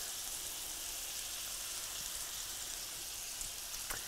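Cod fillets frying in a pan with butter and ghee over low heat, a soft, even sizzle and crackle, faint and continuous, with no talking.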